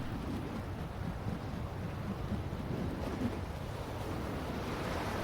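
Strong wind blows off a lagoon in Hawaii, a steady broadband rush with low buffeting rumble, continuous and moderately loud with no voices.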